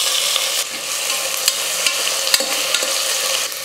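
Two large onions sauté in hot oil with cumin, cloves and cinnamon inside a pressure cooker for a kurma. A loud, continuous sizzle is broken by several sharp spoon clicks and scrapes against the pot.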